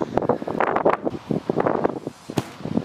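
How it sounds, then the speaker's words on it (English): Gusty wind buffets the microphone in uneven bursts, a low rumbling roar that swells and drops throughout. "Right, so today it's pretty windy"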